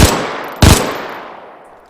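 An MG42 machine gun mounted on a WW2 vehicle fires in Arma 3 with the IFA3 mod: two short, loud bursts about half a second apart, each followed by a long fading echo tail, with no speech.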